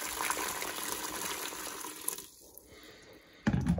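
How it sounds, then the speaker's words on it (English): Boiling water gushes from a kettle into a Ninja Foodi pot ahead of pressure cooking potatoes, a steady pour that thins and fades before a louder splash and clatter at the end; no one speaks. "So now I'm going to pour in boiling"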